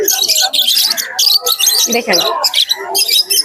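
Normal budgerigars in stock at Naihati pet market keep up a dense, continuous chatter of bright chirps and squawks, close and loud, while people talk over the birds.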